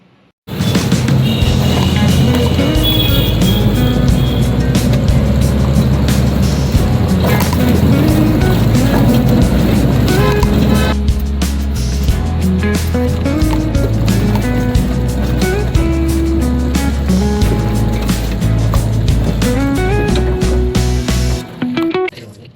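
A Porter three-wheeler loader vehicle driving in Delhi, a loud continuous engine drone and road rumble close by, steady throughout with rattling, without speech, cutting out briefly at the end.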